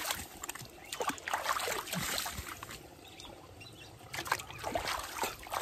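Hands are washed in water outdoors beside a peanut field, with soft intermittent splashing and trickling across the clip, moderately close.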